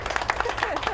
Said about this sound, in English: a nice round of applause for our staff.